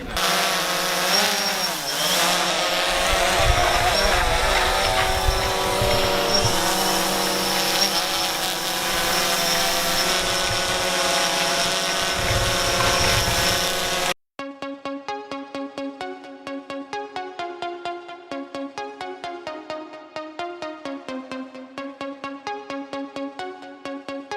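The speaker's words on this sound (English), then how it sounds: "So I'm about to take the drone for a spin, DJI Phantom standard" A DJI Phantom Standard drone flies over Jacmel, Haiti, with a loud, steady buzzing whine close by for about fourteen seconds, then cuts off abruptly into rhythmic music.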